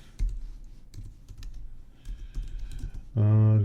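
Someone types a short command on a computer keyboard: a handful of light, close key clicks with soft background noise, followed by a loud, steady electronic tone at the end.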